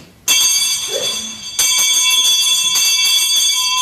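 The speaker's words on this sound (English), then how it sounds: "Teacher would walk out the front or out the back, ring the bell, and that's how you knew it was time to come in" A school bell rings out loud and clear to call students in from recess at an old one-room schoolhouse, starting abruptly, pausing briefly, then resuming in a steady sustained peal with no talking.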